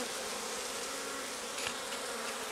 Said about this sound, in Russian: Оттуда вылетали пчелы.